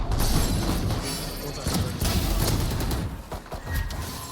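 Rapid gunfire in a Valorant match, dense overlapping bursts running almost continuously at close range with a few sharper impacts, and brief dips near the end.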